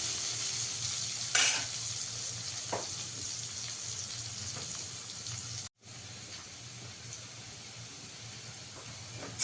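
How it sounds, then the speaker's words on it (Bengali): Potato pieces frying in hot oil with salt and turmeric, a steady close sizzle and hiss with occasional stirring scrapes, one brief louder crackle, no one talking. "একটু হলুদ দিয়ে আলুটাকে একটু লাল লাল করে ভেজে নেব"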